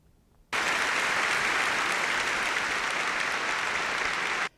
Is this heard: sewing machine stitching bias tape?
no